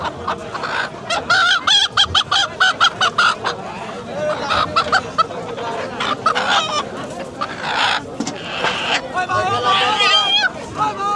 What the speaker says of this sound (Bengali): এটা এটা হাঁস আনছে আর একটা মুরগি আনছে